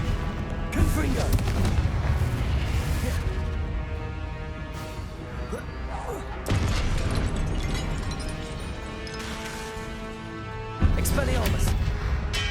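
Confringo blasting spells explode in Hogwarts Legacy, a string of loud, close booms with crackling debris, three heavy bursts standing out over dense game music and combat noise.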